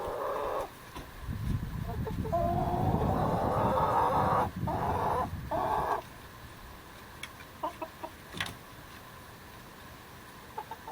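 Hens cluck and chatter around a homemade chicken coop, a busy dense stretch of clucking at first, then a few scattered calls over quiet background.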